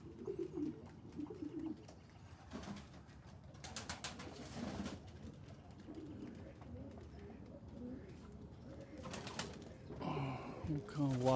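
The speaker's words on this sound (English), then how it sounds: "I have pigeons above me and my king pigeons." King pigeons coo softly in a loft with nesting boxes, low murmuring calls recurring over a busy background with bursts of brighter bird chatter and fluttering, faint and somewhat distant.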